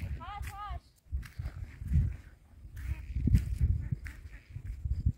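A duck quacks a few times in quick succession near the start, followed by footsteps and people talking outdoors.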